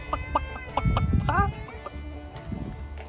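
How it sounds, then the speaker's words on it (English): A rooster and hens clucking in a vegetable garden, with a string of short clucks and a brief rising squawk, close by, mixed with faint background voices. "That is a rooster right there."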